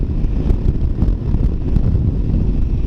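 Strong wind buffeting a microphone while riding a Honda Rebel 300 motorcycle in high winds, a loud continuous rumbling roar with gusty bursts and no voices.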